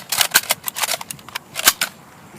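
Gunfire from a volley in a staged 1775 battle scene: a rapid, uneven string of sharp, light cracks in bursts, close and dry, with no talk over them.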